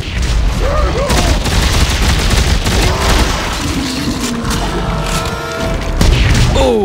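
Force Gun blasts in Dead Space 3 land as heavy concussive booms over a dense, continuous wash of combat noise, with a final loud burst near the end.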